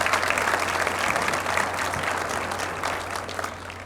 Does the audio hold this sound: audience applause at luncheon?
yes